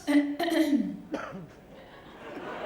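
Someone talks and gives a quick cough or two mid-sentence, close by, with a hint of chuckling around it, at a film music launch event.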